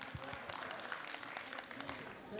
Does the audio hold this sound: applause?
yes